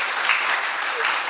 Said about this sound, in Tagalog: isa munang palakpak sa ating Panginoon